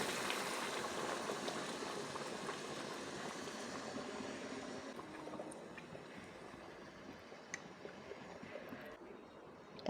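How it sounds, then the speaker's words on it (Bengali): Boiled water being poured into a pot of rice for Bangladeshi chicken polao, a steady rushing, bubbling wash of liquid that is loud at first and eases slightly toward the end, with no talking. "এই বয়েল পানিটা আমি অ্যাড করে দিলাম"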